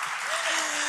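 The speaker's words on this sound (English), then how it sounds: "you can clap for that" Applause from an audience at a celebration event, a short dense burst of many hands clapping together, fairly loud and even throughout, with a voice speaking faintly beneath it.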